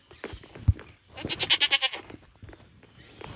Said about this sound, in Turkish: Burada koyunlar var.